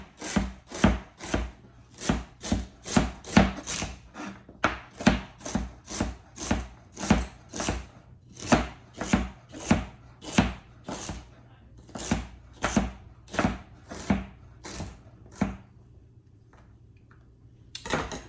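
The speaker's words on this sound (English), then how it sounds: "let's chop up our celery. Just a rough chop on that" A knife roughly chops celery hearts on a board in a long run of steady, crisp thuds, close and evenly paced, slowing near the end.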